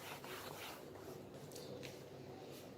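Writing is wiped off a board during a maths lesson, heard as faint, close, irregular rubbing and scraping strokes with a few brief swipes and no voice.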